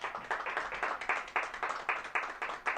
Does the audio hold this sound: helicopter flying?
no